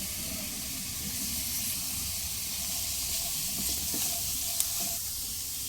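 Chopped green chilies and capsicum frying on a high flame for chicken soup, a steady, close sizzle and hiss continuing evenly with a few faint stirring clicks and no voices.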